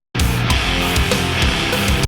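A dense nu metal passage with heavy distorted guitars in dissonant harmony over pounding drums, loud and full from start to finish, with no voices.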